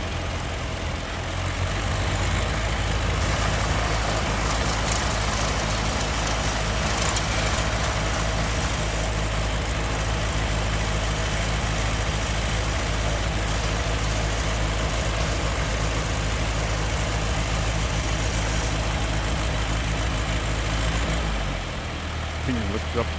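A 1977 John Deere 2130 tractor engine runs steadily at close range during a loader demonstration, a loud continuous low rumble that holds for most of the span before cutting off near the end.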